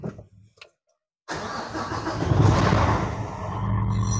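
Car engine cranked and started after a short near-silence, then revved up and held at high RPM for a test, loud and close with no talking.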